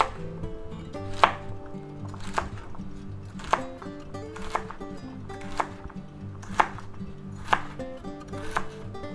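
Knife slicing ingredients for chicken chow mein on a cutting board, a close series of about nine sharp, evenly spaced chops against the board's hollow knock, no talk.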